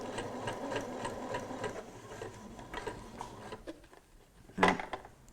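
A sewing machine stitches a zipper onto a bridesmaid dress, a steady close whirring hum with rhythmic needle ticks that slows and stops, followed by a brief clatter.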